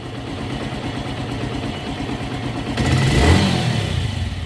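A cold TVS motorcycle engine with a ticking fault idles with a steady, close throb, then revs up louder partway through before settling slightly.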